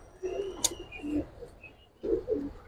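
Pigeons in a loft coo softly and close by in two short bouts of low throaty calls, with a brief high chirp between them and quiet gaps.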